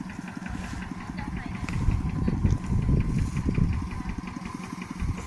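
Motorcycle engine running steadily at low revs, carrying riders up onto rice fields while hauling bundles of harvested rice, a continuous rumbling drone with people talking over it.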